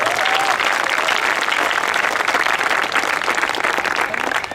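Audience at a Hindi comedy poetry gathering breaks into loud, sustained applause, dense clapping filling the hall steadily from start to finish with no voices on top.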